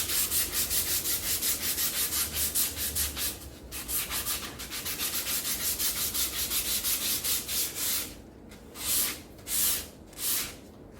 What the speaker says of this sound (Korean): 고래의 앞면을 사포로 갈아줍니다. 갈아주는데 이때도 나무의 결을 따라서 갈아줄 거예요.